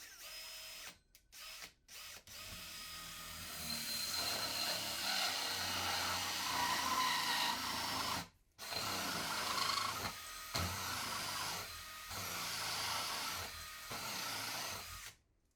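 A power drill running in reverse with a loosely attached hole saw whirs and grinds through plywood in long bursts, starting and stopping several times, close and loud.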